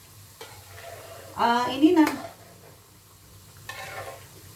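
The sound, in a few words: karaage chicken frying in oil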